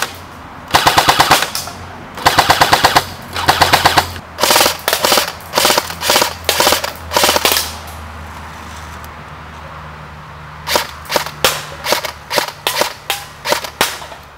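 Airsoft machine guns, an A&K PKM and a G&P Stoner 63, firing outdoors in rapid automatic bursts, first long sustained strings, then shorter spaced bursts, loud and close with a brief pause between.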